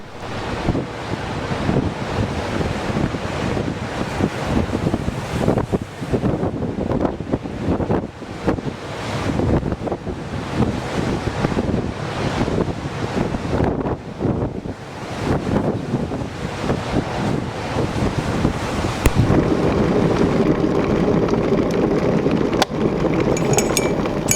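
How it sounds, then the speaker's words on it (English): Strong gusts from Storm Ciara in the UK buffet the microphone, loud roaring wind rising and falling continuously with a rushing sea-like sound and no talk. "the storm that we've just been experiencing this weekend has got quite a lot of energy and punch to it"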